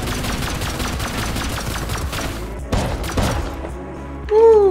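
Rapid gunfire in the survival game Rust, a steady stream of close shots over the first few seconds, then a few separate heavy bursts and a short ringing tone at the end.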